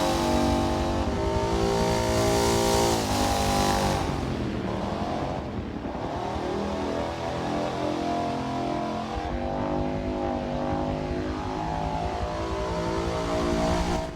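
Citroën 2CV on a hot lap of Laguna Seca in Forza Motorsport, its small engine droning and revving up and down through the corkscrew, loud and continuous with shifting pitch.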